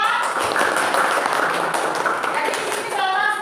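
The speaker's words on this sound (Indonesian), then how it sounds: "Iya, tepuk tangan" A classroom of children claps together in a steady, dense patter of hands, with young voices mixed in throughout.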